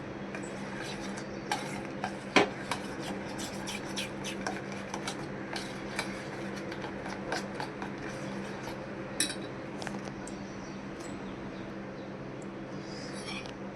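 Wheat flour, oil, mango juice and jaggery get mixed in a bowl, a soft steady scraping and stirring with occasional light clinks of utensil against the bowl, fairly quiet and close.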